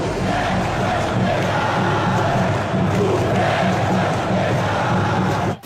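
Football crowd chanting together in a stadium, a dense, loud, continuous roar of massed voices with a steady rhythmic pulse, far and reverberant and never letting up.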